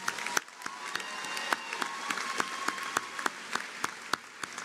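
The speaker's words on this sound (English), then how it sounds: "You all deserve a round of applause." A commencement audience claps, a fairly thin scattering of individual hand claps with some distinct sharp slaps over a softer crowd wash, lasting a few seconds.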